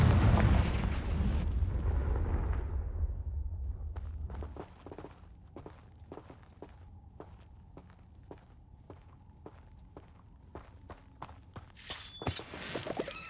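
A Confringo fire spell explodes in Hogwarts Legacy, opening with a loud, rumbling blast that fades after about four seconds. Sharp, evenly spaced game clicks and steps follow, and a second, brighter burst hits near the end.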